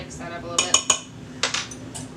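Flour, baking powder and salt being stirred together in a pot for a buttermilk blueberry breakfast cake, heard as a few sharp scraping, clinking utensil strokes in two short bursts, close and fairly clear, with no talking.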